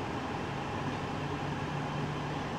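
Air conditioning blows steadily inside a Suzuki Swift RS 4th-generation hatchback cabin with digital climate control, a constant, even airflow hiss with a faint low hum, close and unbroken throughout.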